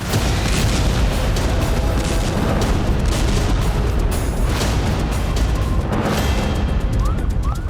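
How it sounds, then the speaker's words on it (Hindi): A loud, rumbling blast at an airport in Tashkent, Uzbekistan, with dense crackling debris noise, sustained booming roar that keeps going without pause. "यह धमाका एयरपोर्ट पर हुआ।"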